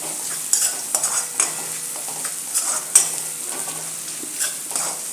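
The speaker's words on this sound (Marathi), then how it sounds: "तर अशी कांद्यामध्ये परतून घ्यायची" Capsicum and onions sizzle steadily in a hot pan while a utensil stirs and scrapes through them in irregular bursts, close and fairly loud, with no talking.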